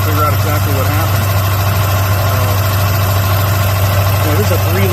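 A 3-liter timing-belt car engine idles in an open engine bay, a steady low mechanical hum running evenly throughout with faint background voices.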